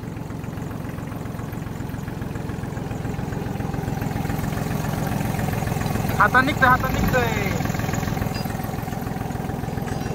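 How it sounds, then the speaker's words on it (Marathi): A tractor engine runs at a steady idle, close and continuous with a low knocking pulse, as someone says a few words partway through. "आता ऑलरेडी तुम्ही बघितलं असं ट्रॅक्टर मस्त भोंगवला"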